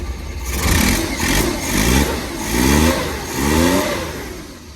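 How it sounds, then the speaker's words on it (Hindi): A Suzuki Ravi motorcycle engine with a faulty carburetor runs after starting, revving up in three or four rising and falling surges over a low idle, close and loud with no talk. "गाड़ी स्टार्ट हो गई है।"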